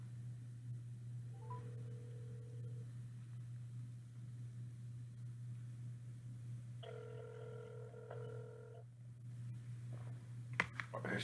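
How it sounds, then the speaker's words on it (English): Touch-tone telephone dialing: one brief tone, then a quick sequence of several dialing beeps a few seconds later, faint over a steady low hum, before a soft click near the end. "We'll call Cornyn again."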